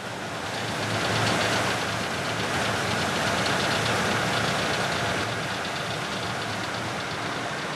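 Timber truck engine losing power on an isolated forest road in Gabon, a rough, knocking mid-pitched rumble running steadily and close for several seconds, with no voices over it.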